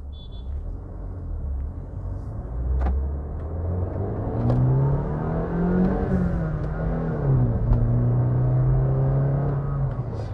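A 2020 Honda City petrol manual's engine hums and rises in pitch as it pulls away in first gear, the revs climbing smoothly, with a few clicks and knocks inside the cabin.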